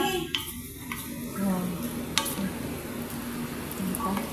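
Shrimp stirred in a frying pan, with a steady sizzle under scraping and clinking strokes of a utensil against the pan, close and continuous throughout.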